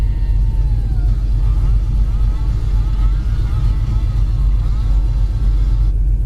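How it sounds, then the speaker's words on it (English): A 1969 Chevy Chevelle SS engine idling after several minutes of running, a steady loud low rumble up close with faint whining tones drifting over it. "Car's been running here for about 8 minutes, I'm guessing, 6-8 minutes"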